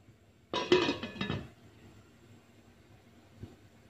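Lemongrass stalks and ginger dropped into a saucepan give a short burst of clinking and clattering against metal lasting about a second, followed by a quiet room and a faint knock afterward.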